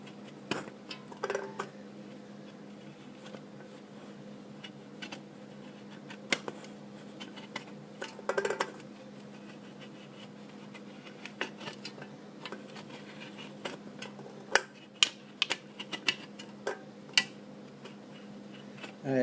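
Faint, scattered metallic ticks and small scrapes from cutting the top off an aluminum can to build a penny alcohol stove, heard close against a steady low background hum.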